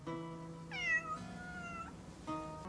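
A cat meows on a rooftop in the game Crimson Desert, three drawn-out tonal meows with a pause before the last, clear and fairly close over a steady low background hum, with no talking.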